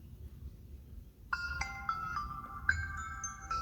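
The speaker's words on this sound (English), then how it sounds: "your phone will play audio to help you fine-tune the audio balance as you need" A Samsung Galaxy phone's speakers play a bright test chime after a second of quiet, a sequence of clear ringing tones with a distinct ding partway through.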